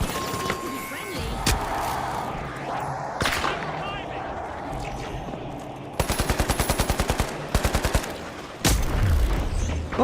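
Gunfire from a sniper rifle and other weapons in the sci-fi shooter game Marathon, with rapid bursts of shots and sharp cracks over a constant background of game sound. Faint speech comes and goes.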